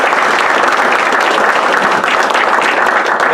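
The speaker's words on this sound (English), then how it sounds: "Can we give him a round of applause?" A large crowd at a New York State budget event applauding steadily and loudly, dense clapping filling the whole stretch without a break.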